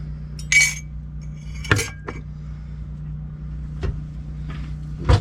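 A spoon taps and clinks against a bowl while stirring egg whites, a few sharp scattered knocks over a low steady background hum, close and without talk.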